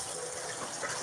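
Tap water runs steadily in a kitchen sink while fish from a Guyana fish market are washed, a continuous close hiss of flowing water with no talking.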